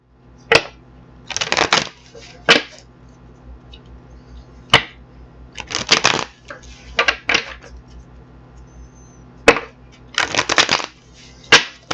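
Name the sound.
shuffling tarot cards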